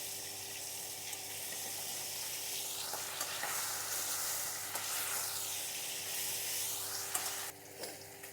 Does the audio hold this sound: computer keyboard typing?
no